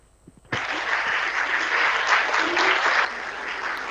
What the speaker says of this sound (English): sous un tonnerre, une salve d'applaudissements.